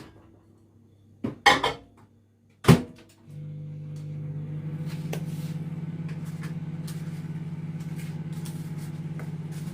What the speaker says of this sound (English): I'm just going to chuck that in the microwave a bit, just so that the margarine will melt down slightly